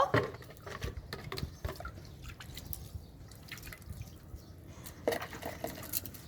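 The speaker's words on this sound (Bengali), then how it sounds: "এখন জল দিব," Water poured onto a potted plant, soft patters and drips spattering on soil and leaves, faint and irregular with a few brief louder splashes.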